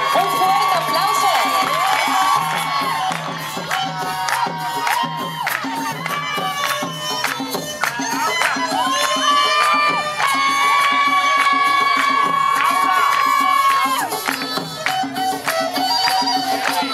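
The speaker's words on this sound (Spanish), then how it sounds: "Un fuerte aplauso." A large crowd cheering and applauding steadily throughout a pageant coronation, with bright music-like tones mixed into the dense noise.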